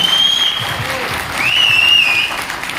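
Steady applause from an audience honoring achievers at a business gathering, a dense continuous clapping that holds for a few seconds.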